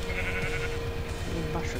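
Sheep in a video game bleat a few times, wavering calls over a busy background of game sounds.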